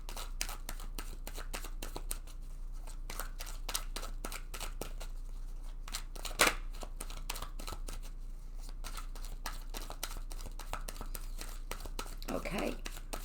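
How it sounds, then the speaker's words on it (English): A tarot card deck being shuffled over and over, with steady riffling and snapping of cards close to the mic and a brief louder slap partway through; a faint whispery voice comes in near the end. "I'm just going to go ahead and shuffle this deck several times"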